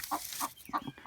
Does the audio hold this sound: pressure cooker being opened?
no